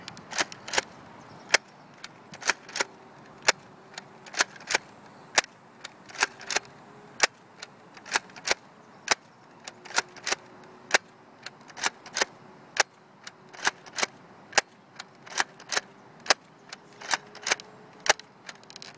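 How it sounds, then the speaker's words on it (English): A Nerf Vortex blaster fires ten discs outdoors, each shot a sharp, close, isolated snap, repeated in a steady rhythm with faint hum and quiet gaps between. "Okay, and there's the 10 discs fired off."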